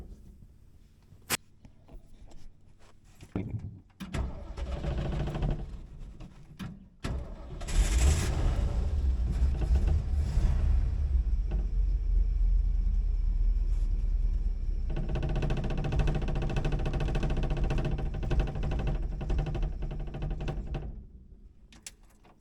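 A 1963.5 Ford Falcon Sprint with an idle fault and lean mixture cranks through a few knocks, catches, then idles with a steady, close rumble for over ten seconds before abruptly cutting out.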